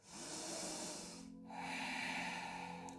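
Deep, audible breaths during a vinyasa flow yoga session, a long airy inhale, a short pause, then another slow drawn breath, close and quiet with no talk.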